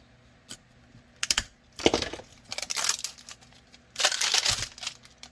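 A roll of tape is handled and pulled close by, producing scattered clicks followed by louder crackling, rasping tears that come in uneven bursts.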